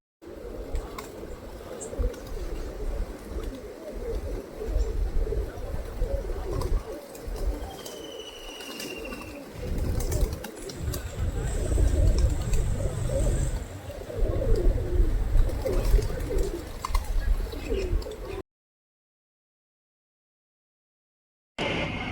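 Pigeons coo in low, throaty rolling calls at a village farmhouse feeding spot, several birds close by with occasional chirps, faint background noise, and a sudden drop to silence near the end.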